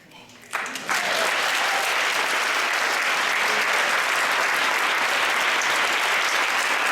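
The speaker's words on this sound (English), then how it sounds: "Give another round of applause for Sacrificial Poets." An audience at a 2015 spoken-word poetry performance breaks into applause for the Sacrificial Poets, rising from a quieter moment into loud, dense, sustained clapping that fills the room.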